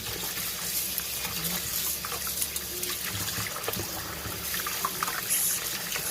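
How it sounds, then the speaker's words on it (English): Rice is swished and rinsed in water in a kitchen, giving a continuous trickling, splashing wash with small clinks and sloshes, fairly close and steady throughout. "I normally wash my rice 3 times"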